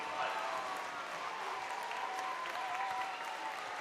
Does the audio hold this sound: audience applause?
yes